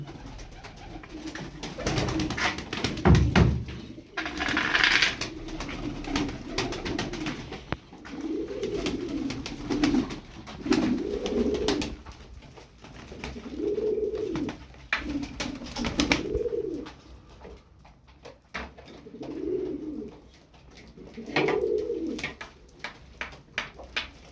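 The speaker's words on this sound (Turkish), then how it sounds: "13 tane kuş var burada." Tumbler pigeons coo in repeated low, rounded phrases, with a burst of wing flapping early on and soft rustling in between.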